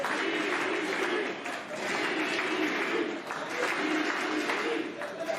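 Wrestling crowd in an arena near the end of a match between Fuego Del Sol and Izzy James, a steady loud roar of cheering and clapping that dips briefly a few times without breaking.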